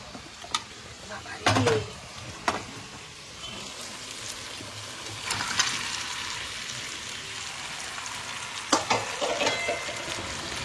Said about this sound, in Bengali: মাটনটাকে পেঁয়াজ আদা রসুনের সঙ্গে ভালো করে মিশিয়ে অল্প করে কষিয়ে নিচ্ছি